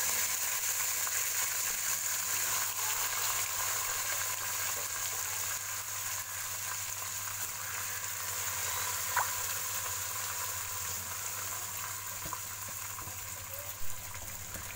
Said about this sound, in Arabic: هنبدا نحمر الشعريه، وبعد ما الشعريه هتحمر هضيف الرز على طول